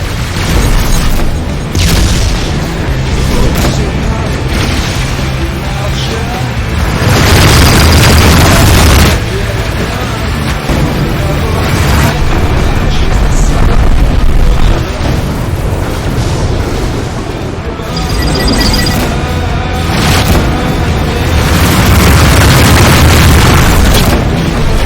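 Missile explosions in the space combat game Rebel Galaxy Outlaw, repeated loud booming blasts rolling over a dense, roaring battle soundscape for the whole stretch.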